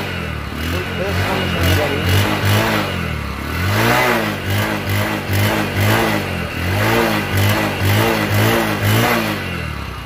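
A Bajaj Discover 100cc motorcycle engine revs repeatedly, rising and falling in steady cycles at close range and fairly loud throughout.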